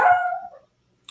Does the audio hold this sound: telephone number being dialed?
no